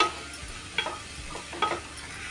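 Moth beans (matki) sautéing in oil: a few quiet scrapes and faint sizzling as the pan is stirred, with soft strokes spaced through a short, low-level stretch.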